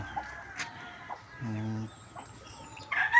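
A backyard chicken gives a short, clear cluck-like call partway through, with faint bird and farm sounds around it and a brief noise at the end.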